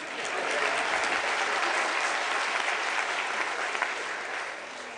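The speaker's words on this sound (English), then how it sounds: "Today, you can clap hands." A large audience claps steadily at a children's day gathering, a dense, sustained wash of applause filling the whole stretch without speech.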